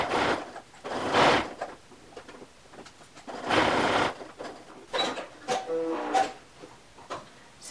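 Sewing machine stitching a men's button-up shirt, running in several short bursts of rapid whirring separated by brief pauses, close and fairly loud.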